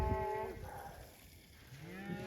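Cattle on a cold, snowy winter cattle drive let out a loud, close moo at the start, followed by softer lowing calls near the end, with no talk over them.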